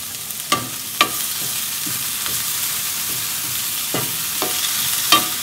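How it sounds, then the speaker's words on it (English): Vegetables including onion and green onion sizzle steadily in a hot pan, with occasional sharp clinks and scrapes of a utensil stirring. "So we keep stir frying until this green onion, white part is withered"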